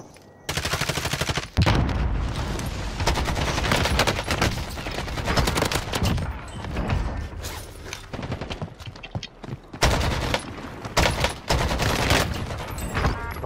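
Video game gunfire fills the scene with dense, close bursts of automatic fire and single cracks, broken by brief pauses and then fresh volleys that keep going to the end.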